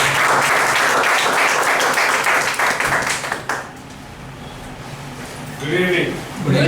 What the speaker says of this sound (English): please give a round of applause again for the general evaluator